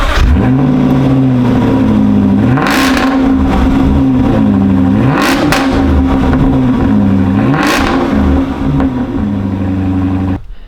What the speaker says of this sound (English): This is 2014 5 litre supercharged V8 with 510 horsepower